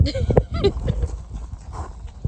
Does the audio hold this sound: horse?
yes